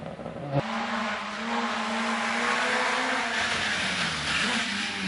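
A Mark II Ford Escort rally car slides through a tight parkland stage at Lytham Hall, its engine revving hard and rising in pitch after a sharp gear change, holding a loud steady note as it passes nearby.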